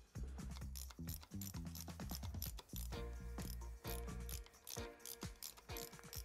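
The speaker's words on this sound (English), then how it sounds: "I just love to use this tool, my quarter drive, with a spot to put your ratchet" Quarter-inch drive ratchet working on fasteners during front-end disassembly of a Harley Sportster motorcycle: rapid, close, loud pawl clicking in repeated bursts as the handle swings back and forth, with no voices.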